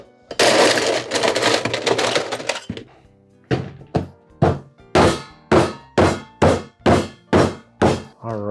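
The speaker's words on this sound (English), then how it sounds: "this just gives me an excuse to use one of the favorite tools that we have, our Lewis bag and hammer." A hammer crushes ice inside a canvas Lewis bag, with a rattling scrape of ice, then a series of about nine heavy, evenly spaced thuds at close range.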